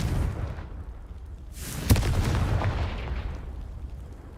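A Confringo fire spell in Hogwarts Legacy detonates as one sharp, loud blast followed by a long rumbling decay that fades out.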